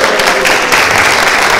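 An audience applauding for a doctor's birthday at a 2019 public accountability event, a loud, close burst of many hands clapping steadily throughout the short moment.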